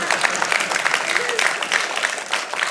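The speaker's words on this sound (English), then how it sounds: "That's another time to clap right there." Church congregation clapping in a sustained, dense patter for a few seconds, moderately loud and filling the room, with no pauses.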